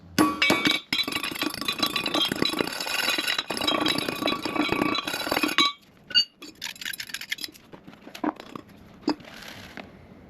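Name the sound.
breaking up ore rocks to look for gold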